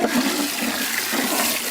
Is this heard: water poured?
yes